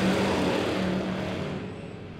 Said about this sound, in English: the green flag goes out, and we're racing.